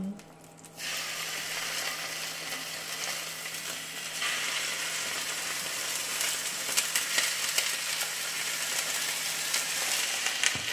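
Pork tenderloin medallions fry steadily in a hot pan, a continuous close sizzle that grows louder after a few seconds, with small crackles and occasional clinks from the pan and no talking.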